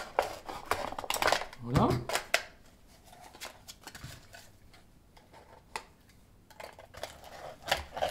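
A container for sowing squash seeds being cut down to about 10 cm, with several sharp snipping and crunching bursts, the loudest near the start and a few more later, as a voice talks over it.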